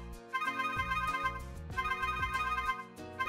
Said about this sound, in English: all my destinations are ringing at the same time